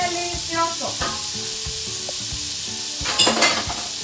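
Mexican-style shrimp sauce ingredients sizzle and fry in a pan, a steady crackling hiss broken by utensil clinks and stirring scrapes, with a louder burst of sizzle toward the end.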